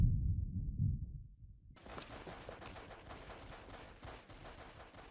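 Gunfire in the film Jeepers Creepers: rapid repeated shots crackle continuously after a low rumbling opening, fairly faint overall with no voices over it.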